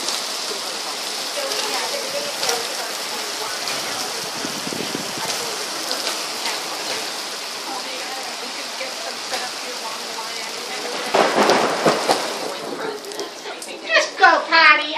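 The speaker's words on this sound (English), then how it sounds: "The biggest hail is hitting your truck, honey." Large hail pounds a truck during a thunderstorm, a dense steady clatter of impacts throughout that grows louder and harsher near the end, with people talking now and then over it.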